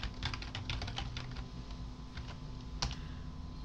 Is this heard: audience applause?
no